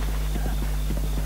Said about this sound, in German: Na gut, aber erstmal reite ich jetzt nach Hateno.